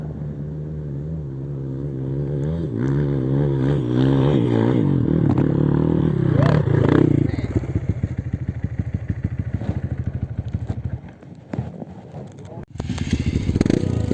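A trail motorcycle revs hard up a steep hill on a dirt trail, its engine pitch rising and wavering loudly, then settling into a rapid close chugging rhythm with clatter and a sharp burst of revving near the end.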